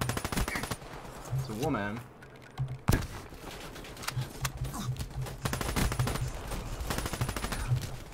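Rapid bursts of automatic gunfire from Black Ops 3 on PC rattle throughout, with a brief lull midway, mixed with keyboard clatter and a player talking over the shooting.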